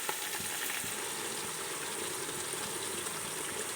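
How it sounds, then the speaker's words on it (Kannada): Ginger garlic paste and ground masala hit onions frying in oil for mutton biryani, giving a steady, close, dense sizzle that holds evenly throughout with no talking. "ಈರುಳ್ಳಿ ಫ್ರೈ ಆಗಿದೆ, ಅದಕ್ಕೇ ಶುಂಠಿ ಬೆಳ್ಳುಳ್ಳಿ ಪೇಸ್ಟ್ ಹಾಕಿ ಈಗ ನಂತರ ರುಬ್ಬಿಟ್ಕೊಂಡಿರೋದನ್ನೆಲ್ಲ ಹಾಕ್ತಾಯಿದ್ದೀನಿ."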